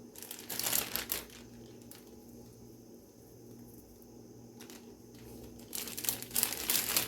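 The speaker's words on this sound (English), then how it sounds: "take the bones and bag them" Rotisserie chicken bones dropped into a plastic bag, loud crinkling and rustling of the bag at the start and again at the end, with a quieter stretch of low handling noise between.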